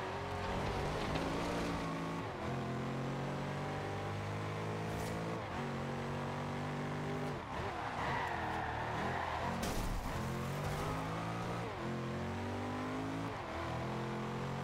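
A Bugatti Veyron Super Sport and a Porsche 918 Spyder race in Forza Horizon 2, engines droning and rising through repeated gear shifts and revs, loud and continuous throughout.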